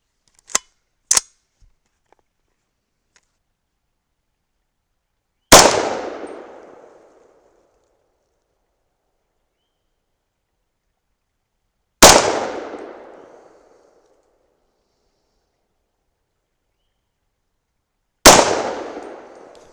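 A 300 Blackout rifle fires three powder-coated supersonic rounds, each a loud, sharp crack with a decaying tail, spaced several seconds apart, preceded by two small metallic clicks.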